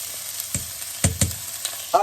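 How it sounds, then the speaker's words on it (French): Garlic and onion hit a hot saucepan and sizzle in several sharp, loud bursts of spitting and crackling over a softer frying hiss. "L'ail et l'oignon sont ici et on va pouvoir mettre ça dans la casserole qui chauffe."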